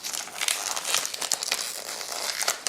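A Narciso Rodriguez For Her Intense perfume box is opened up close, its packaging giving off a quick series of crinkling, tearing and crackling rustles of paper or plastic wrap, with no talking.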